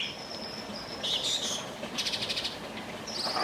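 Small birds chirp outside a church in short, high, faint tweets and trills scattered over a soft hiss of room ambience.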